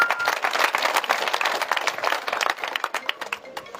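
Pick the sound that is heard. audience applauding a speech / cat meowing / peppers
audience applauding a speech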